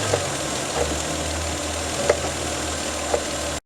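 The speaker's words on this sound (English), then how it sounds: "Now I'm going to run through the gears on the transmission to see how the engine moves" A used car's engine idles steadily nearby while the transmission is shifted through its gears, with a few faint clicks and clunks breaking the low continuous hum, and no talking.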